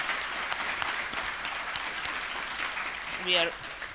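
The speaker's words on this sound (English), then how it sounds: "I'd like you to clap for the Community Engagement Division." An audience applauds steadily, a dense wash of clapping throughout, with a brief voice breaking through near the end.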